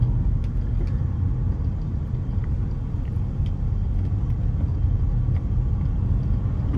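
A BMW E93 drives along a narrow country road toward Ashdown Forest, giving a steady low rumble of engine and tyres with road noise throughout and no talking.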